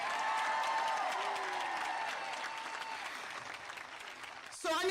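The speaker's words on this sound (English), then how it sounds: "Let's give one more round of applause." A large crowd applauds steadily at a college commencement ceremony in 2022, with dense, sustained clapping filling a big space that slowly tapers, and a few faint cheers mixed in.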